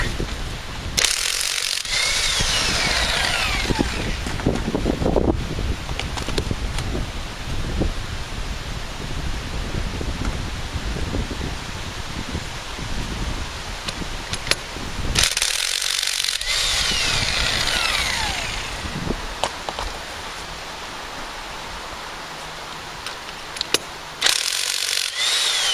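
An electric power tool whirs and grinds on a car's wheel well in bursts, loud and close, with pauses and scraping between runs.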